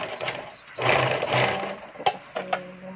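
A sewing machine stitches a terrace curtain in short close bursts of whirring, one longer run in the middle and then brief stop-start spurts with clunks between them.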